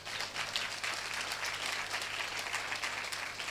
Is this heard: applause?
yes